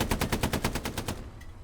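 Rapid automatic machine-gun fire from infantry in a tank video game, a tight burst of about a dozen evenly spaced shots that stops abruptly, followed by a brief quieter tail.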